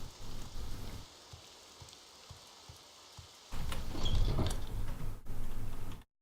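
Rain falls in the video game Morrowind as a broad, steady hiss that drops to a quiet stretch with soft regular ticking, then returns louder and fuller before cutting off abruptly.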